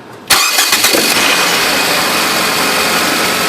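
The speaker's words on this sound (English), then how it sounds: "If I start the car," A 2007 Nissan Versa engine cranks briefly and catches, then settles into a steady, loud idle with a constant whirring hum close by.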